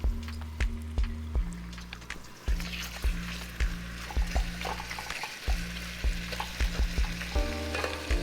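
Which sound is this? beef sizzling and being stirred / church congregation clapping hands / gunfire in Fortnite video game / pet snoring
beef sizzling and being stirred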